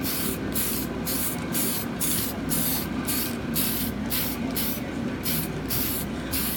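Aerosol spray paint hissing onto the inside of a clear Lexan RC car body in light coats, a series of about a dozen short, loud bursts at a steady rhythm, close to the can.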